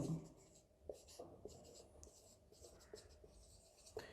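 Writing on a board during a physics lecture, faint scratchy strokes and taps in short bursts, quiet and close.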